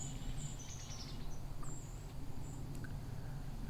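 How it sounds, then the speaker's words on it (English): White-throated sparrows give thin, high seep calls during autumn migration, several faint, short notes scattered over a steady outdoor background hiss. "So all these seeps, white-throated sparrows."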